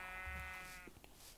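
A sheep in the video game Minecraft gives one clear, wavering bleat, close and fairly loud, followed by a few faint clicks.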